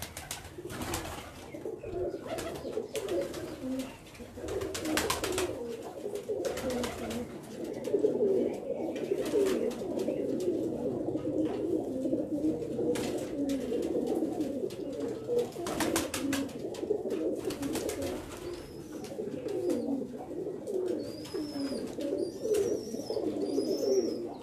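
Pigeons coo steadily and continuously from a rooftop loft, a dense layered chorus of soft throaty calls with occasional wing flaps and faint chirps mixed in, no talk.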